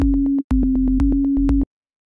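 A synthesized sine-wave tone from an Operator synth plays in rapid 16th-note pulses, deliberately out of key, loud and clean with sharp clicky attacks, alone in a house music production session.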